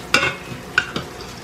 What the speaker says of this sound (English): you scoop half of the tomatoes and the juice here out onto your plate